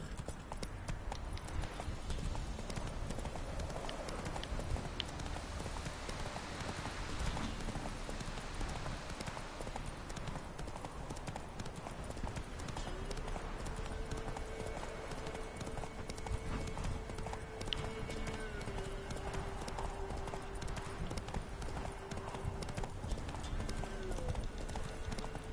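Horse galloping in Witcher 3, a steady fast clip-clop of hooves throughout, fairly loud and close, with game music or a tonal hum joining partway and some voices in the background.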